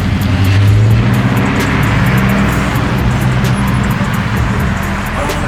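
Loud, sustained car engine rumble at a nighttime car meet as a car pulls out, with low revving drone and passing-vehicle noise filling the scene throughout.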